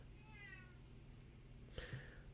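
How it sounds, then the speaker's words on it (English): A pet cat meows once, a short rising-and-falling call at moderate distance over a quiet room hum, followed by a brief bump or rustle. "Oh, my cat is here."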